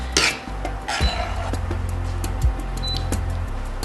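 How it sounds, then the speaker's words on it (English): A spoon scrapes and clinks against a pot and bowl while serving ostrich goulash of sauce, meat and vegetables, giving a few close, sharp metallic taps and soft wet scoops. "Spoon it into a bowl."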